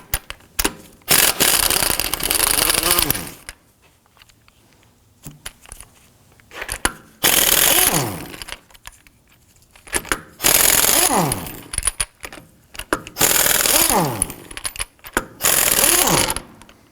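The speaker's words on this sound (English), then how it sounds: "Using a 19mm thin wall socket, I'm going to go ahead, loosen and remove our lug nuts and our locking key." On a 2005-2009 Subaru Legacy, lug nuts and a wheel lock come off with a 19mm thin wall socket in a series of loud, close, rattling impact-tool bursts broken by short quiet gaps.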